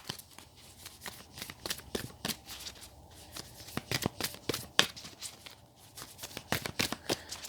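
A deck of tarot cards is shuffled steadily and close up, quick dry riffles and flicks repeating in uneven bursts, quiet with no talking.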